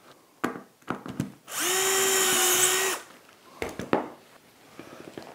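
A power drill whines loudly for about a second and a half while boring a hole in a tracksaw cutting station, framed by close knocks and clatter of wood and tools before and after.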